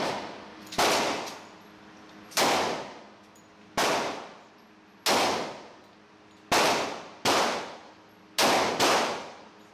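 Gunshots from a 10mm handgun ring off a steel target, a series of about eight loud metallic clangs and pops in an uneven rhythm, some in quick pairs, each leaving a short ringing decay.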